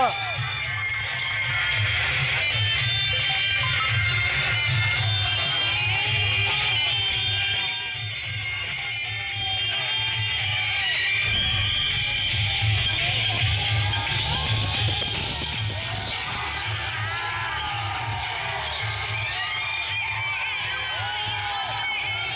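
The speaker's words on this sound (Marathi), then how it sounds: "विजयाचा हा जल्लोष ते व्यक्त करताना दिसतात" A crowd at an election victory procession cheers and shouts continuously, with whoops and children's yells in a dense, steady roar, while a voice talks over it throughout.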